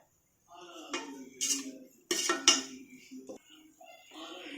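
Potato fry being stirred in a pan with a utensil after vegetables are mixed in, giving intermittent scraping and clinking strokes in uneven bursts, close and moderately loud with no talking.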